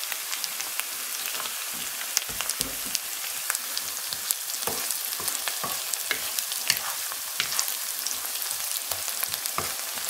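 Onions sizzle and crackle steadily in a hot pan, close by, with a continuous bubbling hiss and occasional sharper pops.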